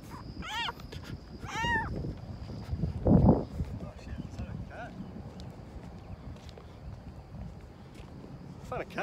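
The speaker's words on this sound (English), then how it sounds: "Oh my god, look, it's a little kitten." A tiny kitten from a newborn litter gives several high, wavering meows early on, close by, with people talking and handling noises in a room.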